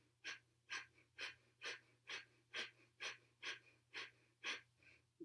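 Rapid, rhythmic breath of fire in Kundalini yoga, about ten forceful pumping exhalations at an even pace, close and clear with a faint steady hum beneath.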